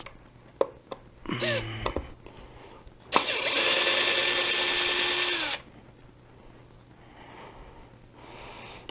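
Power driver backing screws out of an X-MAXX RC truck steering servo: a loud sustained whirring run of about two seconds, preceded by a few short clicks and brief bursts, then quieter handling noise afterward.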